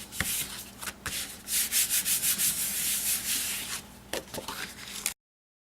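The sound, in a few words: rubbing paper onto an A2 card base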